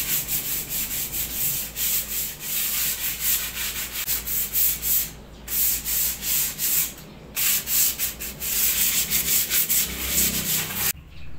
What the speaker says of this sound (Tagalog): lihain lang natin para matanggal yung kalawang at yung mga semento na dumikit